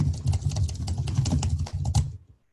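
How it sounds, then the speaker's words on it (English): Fingers pound a computer keyboard in a fast, dense clatter of close key strikes for about two seconds, then stop abruptly. "You just pound on your keyboard"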